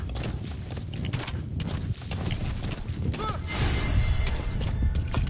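Galloping horse hooves in a video game, a rapid steady clatter close up, with game sounds mixed in throughout.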